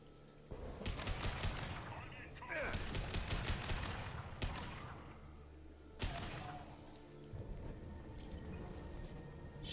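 Rapid bursts of automatic gunfire from the video game Mass Effect 2 rattle in several long volleys separated by brief pauses, fairly quiet overall, with a voice talking over the action.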